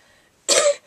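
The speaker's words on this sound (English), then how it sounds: "Excuse me, still coughing, still a little bit sick." A single short, sharp cough from a person who is a little sick, close and clear, after a near-silent moment.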